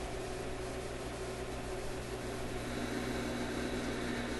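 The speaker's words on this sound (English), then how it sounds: "Well, there's an FM hiss." Steady broadband FM static hiss from a Grundig 2540 tube radio without an antenna, continuous and even throughout, with a faint low hum underneath and no voices.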